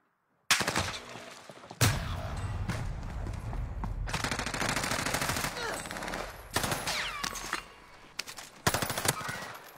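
Rapid machine-gun bursts and gunshots fired at the player in an online multiplayer shooter tournament game, loud and sustained with brief gaps between volleys.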